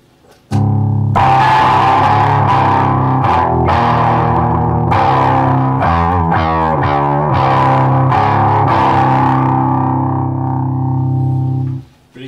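An electric guitar runs through a TC Electronic Eyemaster distortion pedal on the clean channel with gain at zero. Loud, sustained chords ring with some grit and tight note changes, then stop abruptly, with no talking.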